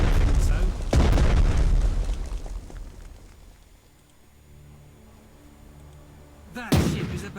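Big guns on a US battleship fire in a Pacific naval strategy game near Guam: a loud boom, a fading rumble, then another heavy blast, with a voice talking over it.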